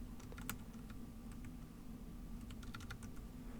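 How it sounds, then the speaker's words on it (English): Keys tapping on a computer keyboard in scattered bursts of light clicks, with a few rapid runs near the end, over a steady low hum from office equipment. "I'm just going to manually type it in"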